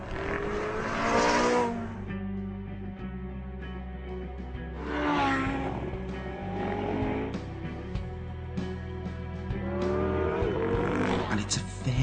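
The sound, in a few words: Porsche 918 Spyder sports car driving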